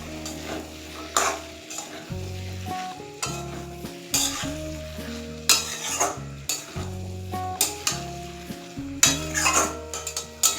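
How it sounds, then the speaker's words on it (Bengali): Boiled chickpeas being stirred through sizzling, well-cooked masala in a pan for a Bengali-style chana paneer masala, with a steady fry hiss broken by repeated scraping strokes and clinks of the spoon against the pan, close and without speech. "এবার ছোলাগুলো মশলার সাথে মিশিয়ে নেব।"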